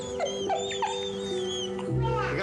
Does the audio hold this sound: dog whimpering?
yes